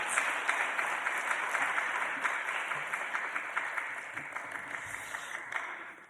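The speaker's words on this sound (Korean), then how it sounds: "그래서 여러분들 힘찬 박수로 맞이하시면 바랍니다." A church congregation gives warm, steady applause to welcome a speaker at a Sunday afternoon worship service, the clapping fairly distant and slowly fading over several seconds.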